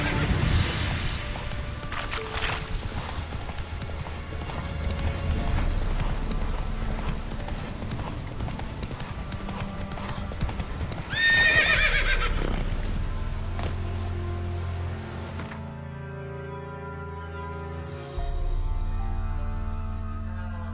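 Roach the horse trotting in The Witcher 3 game, steady clip-clop hoofbeats under a dense music and ambience bed, with a brief louder burst near the middle and a quieter, sparser stretch toward the end.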